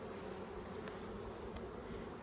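Honeybees buzz softly and steadily around beehive frames set out while acacia and orange trees are in bloom, a faint continuous drone with no voices.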